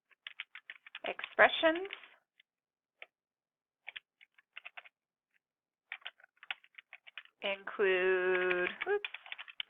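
Light, scattered clicks of typing on a computer keyboard while working in a Jupyter notebook, coming in short bursts between and under a person talking.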